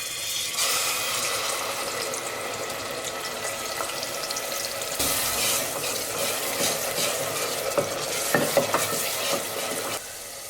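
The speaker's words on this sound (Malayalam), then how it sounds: "ഇതിലേക്ക് ജിഞ്ചർ ഗാർലിക് ഒണിയൻ പേസ്റ്റ് ചേർത്ത് കൊടുക്കാം." Ginger garlic onion paste frying in about five tablespoons of hot oil in a pressure cooker, a steady sizzle with scraping stirring strokes and occasional sharper crackles, close and continuous, with no talking.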